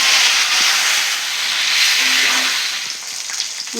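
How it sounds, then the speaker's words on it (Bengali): Pointed gourds sizzle in hot oil, after potatoes were fried, in a village kitchen, a loud, continuous hiss that stays close and gradually softens slightly toward the end. "এবার পটলগুলো তেলের মধ্যে দিয়ে দেব"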